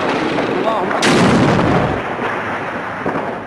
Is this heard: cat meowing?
no